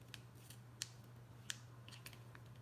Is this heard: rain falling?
no